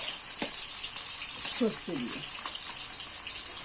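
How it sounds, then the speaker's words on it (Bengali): Bhola fish frying in a pan, a steady soft sizzle and hiss running throughout, with a voice speaking faintly over it now and then. "প্রথমে ভোলা মাছগুলো ভেজে নিচ্ছে।"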